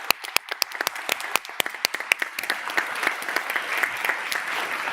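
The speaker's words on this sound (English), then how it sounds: "Please, a big round of applause to our panelists." Conference audience applauding the panelists at the close of an anniversary session: sharp, distinct claps at first that quickly thicken into a steady round of applause from a moderate crowd.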